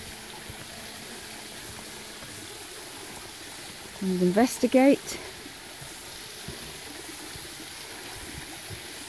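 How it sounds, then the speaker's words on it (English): A waterfall in Buderim Forest park rushes as a steady, even wash of water noise throughout, while a person talks briefly in the middle over it. "This is one part of the waterfall here"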